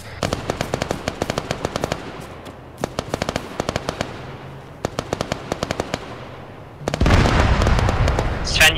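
Bursts of automatic gunfire from ArmA 3 SOG, firing in short, evenly spaced volleys that repeat for several seconds, then give way to a louder, denser wash of battle noise near the end.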